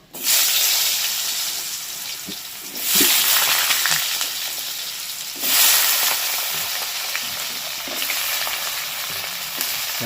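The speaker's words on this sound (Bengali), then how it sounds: "এই আলুটা দিয়ে ভেজে নেবো" Diced potatoes fried in hot oil with bay leaf for a fish-roe kofta curry: a close, steady sizzle that surges louder twice, with faint clinks of stirring.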